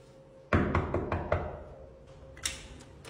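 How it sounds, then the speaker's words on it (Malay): Several firm knocks strike a house door in a quick cluster, then one more knock after a pause, close and fairly loud against a quiet room. "Ketuk dulu."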